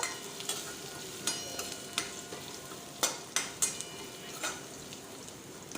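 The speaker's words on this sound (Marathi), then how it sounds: "आपल्याला हे छान असं परतून घ्यायचं आहे तेलामध्ये लसणाचा थोडा कलर चेंज होईपर्यंत" Cumin, mustard seeds, fenugreek and garlic fry in oil in a pan for a raw mango aamti, a soft steady sizzle broken by scattered sharp clicks and scrapes of stirring and seeds popping.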